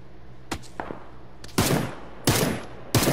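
Gunfire in PUBG: a few scattered single shots, then three loud sharp bursts spaced about a second apart, each with a short echoing tail, no talking.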